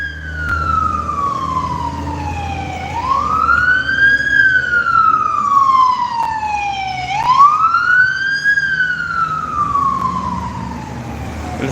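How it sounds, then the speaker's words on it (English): Emergency vehicle sirens wail along a city boulevard, a loud rising-and-falling tone sweeping up and down in two long cycles over steady traffic rumble. "now you can hear what I mean about the fucking sirens"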